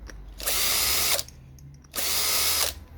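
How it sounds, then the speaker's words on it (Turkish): Two bursts of a power drill whirring near and loud, each lasting under a second with a short pause between, while removing screws from scrap electronics. "bir tane güzel bir matkap ihtiyacınız var."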